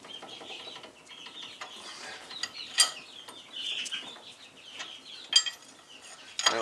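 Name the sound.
tightening brake caliper bracket bolts on a Land Rover LR3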